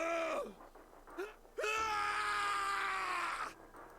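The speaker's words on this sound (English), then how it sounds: "his scream echoed through the incineration chamber, full of rage and despair" Snake, a character in the video game 999, screams in an incineration chamber: a few short strained cries, then a long, loud, sustained scream of rage and despair that cuts off abruptly near the end.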